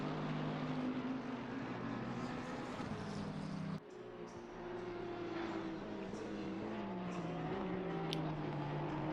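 Racing car engines in an eSeniors sim racing game at Oulton Park: a continuous droning engine whine with shifting pitch as cars run together, steady and fairly close, no talk over it.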